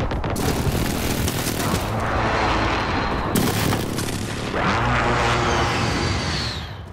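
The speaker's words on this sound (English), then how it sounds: "Friendly precision airstrike on the way." Heavy explosions roll out one after another from a precision airstrike in Call of Duty: Modern Warfare multiplayer, a loud continuous barrage of booms and crackling blasts with sharp bursts near 0.3 and 3.4 seconds.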